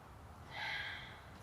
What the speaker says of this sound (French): On fait 3 grandes respirations en cherchant à éloigner les côtes l'une de l'autre.